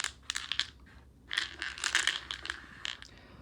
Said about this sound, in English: Each domino gets placed face down and you shuffle them around the entire table.